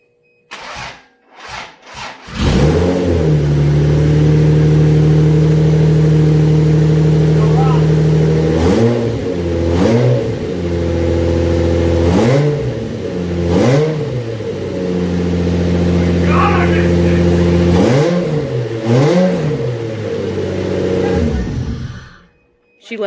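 Toyota Supra engine that has sat long without oil, started and revved loudly and close for about twenty seconds, sustained with repeated rising and falling throttle blips.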